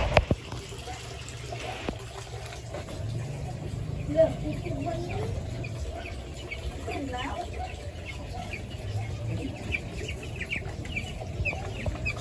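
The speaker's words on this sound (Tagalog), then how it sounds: "So nandito yung mga sisiw natin mga idol." Ten-day-old broiler chicks in a homemade coop chirp and peep close by in scattered calls, with faint background noise and no clear speech.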